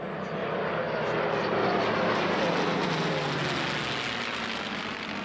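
A P-47 Thunderbolt with a 2,000-horsepower, 18-cylinder twin-row radial engine runs at a historical airshow, giving a loud, steady propeller drone and engine roar that holds throughout.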